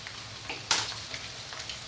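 Steady hiss of eggplant frying in hot oil, with a sharp louder crackle near the start as pieces are lifted or stirred in the pan.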